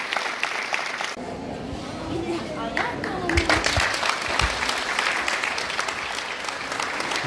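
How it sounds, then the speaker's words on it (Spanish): A crowd at a Christmas charity event handing out holiday food baskets breaks into sustained applause, dense clapping that carries on steadily while voices talk and call out over it. "Fuerte el aplauso para todos ellos."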